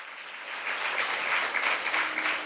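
A church congregation at a Telugu novena Mass at the Gunadala shrine claps loudly together, a dense, sustained burst of applause that swells and holds for a couple of seconds.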